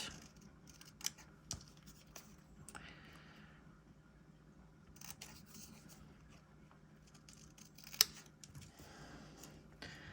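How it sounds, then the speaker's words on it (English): Scissors snipping paper shark teeth for a planner spread, quiet close cuts and rustling paper with a few sharper snips, faint and without talk. "Okay, so let's cut the teeth out."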